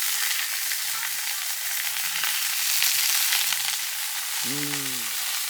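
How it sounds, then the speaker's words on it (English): Goat shanks sauté in a Dutch oven over an open fire, a steady, loud sizzle and crackle of hot fat filling the whole stretch, with a brief scrape or clink of the meat being moved near the end. "So one thing when you're sauteing in a Dutch oven or a big cauldron or pot is I'm not just flipping, I'm moving the meat around"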